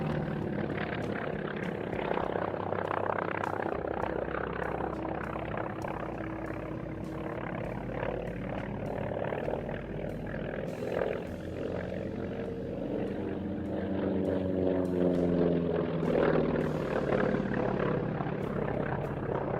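Grumman fighter's propeller engine drones steadily throughout, a loud continuous aero-engine roar with rising and falling tonal bands as the aircraft passes, no talk over it.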